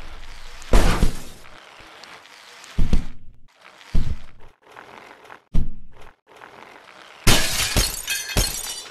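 Glass shatters in several loud, bursting crashes separated by gaps, the last a sustained crash with scattering debris, alone without talk.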